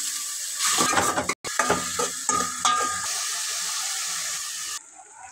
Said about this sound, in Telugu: ఆయిల్ హీట్ అయిన తర్వాత రొయ్యలు వేసి